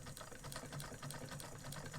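A White VSIIb treadle sewing machine stitches a zigzag while the fabric is moved by hand, giving a faint, steady rhythmic clatter of quick regular needle strokes up close.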